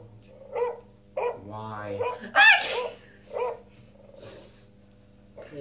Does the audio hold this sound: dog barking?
yes